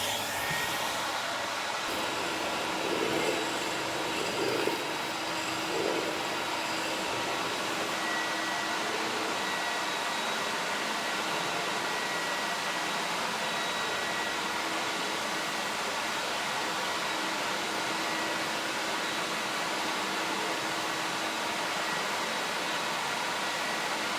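A vacuum cleaner connected to a floor crack machine on a construction site gives a steady, loud broadband whoosh that holds unchanged for the whole stretch, with a few faint thumps near the start.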